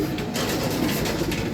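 Pigeons coo in a dense, continuous low murmur during homing training, several birds close together, with no talk over them.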